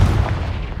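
Confringo fire spell blast in Hogwarts Legacy: a heavy low booming burst that rumbles and fades over under a second, loud and close.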